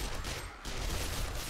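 Rapid, dense gunfire from the zombie survival game 7 Days to Die during a horde night, a loud, continuous volley with a brief dip midway before the shooting resumes.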